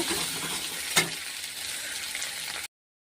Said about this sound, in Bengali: পোস্ত, জিরে, আদা বাটাটা দিলাম, দিয়ে ভালো করে নেড়ে